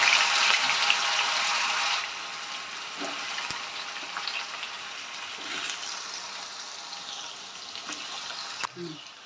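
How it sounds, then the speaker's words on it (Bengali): Diced potatoes hit hot oil in a pan and fry with a bright, steady sizzle that is loudest at first, then settles to a softer crackle with a few scattered clinks. "এবার আমি দিয়ে দেব তেলের মধ্যে, আলুগুলো ভেজে নেব।"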